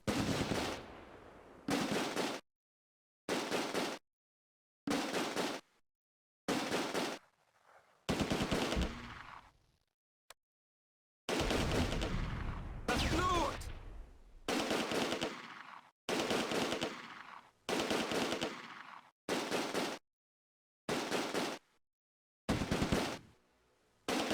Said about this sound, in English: First platoon pivots to put flanking fire on the German assault.